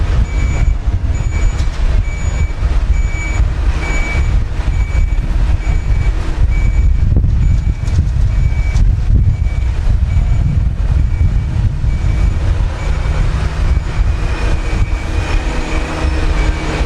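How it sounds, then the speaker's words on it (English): Big tarmac lorry driving onto a building site, a loud continuous heavy rumble with rattling and squealing metallic tones over the whole stretch and no talking. "a big tarmac lorry has arrived. So we'll see that driven in."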